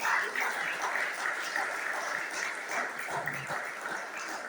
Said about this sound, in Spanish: Dele el aplauso a Cristo.